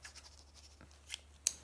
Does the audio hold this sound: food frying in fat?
no